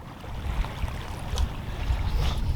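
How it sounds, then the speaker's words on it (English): Gusty wind buffeting the microphone over open water during lure fishing, a steady low rumble that swells and builds slightly toward the end, with no voices. "The wind had dropped a little bit, it's just picked up for a minute."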